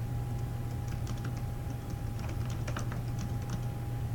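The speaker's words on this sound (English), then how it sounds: "And she's typing, or I'm typing for her" Typing on a computer keyboard while entering a comment, a steady run of light, irregular key clicks over a constant low hum, no talk.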